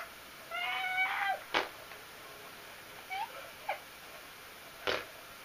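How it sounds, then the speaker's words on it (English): A house cat meows indoors: a drawn-out cry, then a couple of shorter, fainter meows, with occasional sharp clicks and knocks nearby. "Hopefully my cat doesn't ruin the video."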